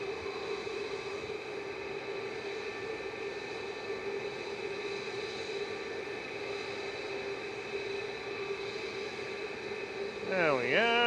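A Boeing 737 MAX 8 rolling down the runway for takeoff at Manchester Airport, a steady distant jet engine roar with a constant whine, swelling slightly toward the end.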